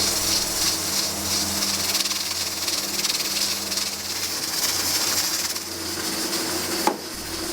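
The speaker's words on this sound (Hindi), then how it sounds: "कुकर की सीटी को घूमते हुए 10 मिनट हो चुके हैं" Pressure cooker on the stove with its whistle spinning, releasing a steady loud hiss of steam while dal gosht cooks inside, continuous throughout with a brief sharp click near the end.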